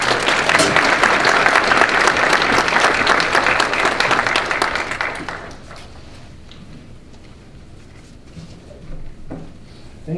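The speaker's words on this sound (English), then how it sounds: "Please give a warm round of applause to Dr. Ness." An audience at a St. Cloud State University lecture gives a warm round of applause for Dr. Immanuel Ness. The clapping is full and close for about five seconds, then thins to a few scattered claps and quiet room noise.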